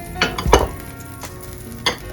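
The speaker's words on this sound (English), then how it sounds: "now what we do is we add those shrimp so they can get lost in the sauce" Shrimp go into a Cajun alfredo sauce in a pan, giving a few quick scraping stir strokes and soft clinks over a light sizzle, close and fairly loud with no voices.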